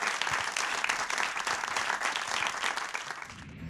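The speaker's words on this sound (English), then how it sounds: "Let's give Aaron one more round of applause." An audience gives a round of applause after a performance at a music competition, sustained moderate clapping that fades out at the end.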